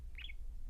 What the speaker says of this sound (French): Ce matin, le petit garçon est réveillé par de petits gazouillements aigus.